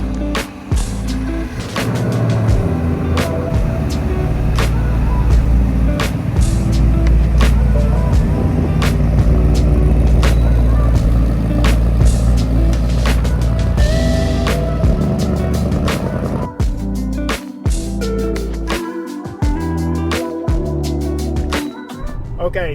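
A 2024 Mustang GT cruises on the road, its steady engine drone and road rumble heard from inside the cabin, with voices talking over it and a sharp change in the noise near the end.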